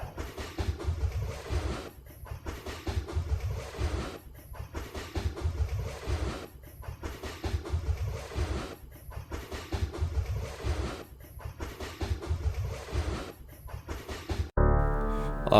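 Train ride in the Franzen role-playing game: a steady rhythmic clickety-clack of wheels over rail joints repeats in regular cycles at moderate level, ending with a brief abrupt musical tone.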